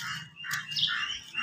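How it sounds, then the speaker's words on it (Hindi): Chicks at a family home chirp in quick high peeps that overlap one another, a steady close twittering with no speech. "इसलिए उनके पास चूजे भी हैं"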